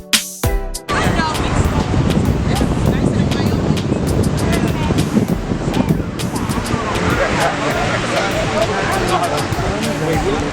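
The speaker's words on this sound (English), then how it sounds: "The right amount of wind." Wind buffets the microphone on a beach day, a steady roar of broadband rushing noise with surf mixed in, continuous and loud for the whole stretch, with muffled voices faintly underneath.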